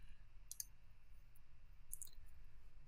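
A couple of sharp computer mouse clicks, one near the start and a quick double click later, land crisp and close over a faint, quiet room hiss.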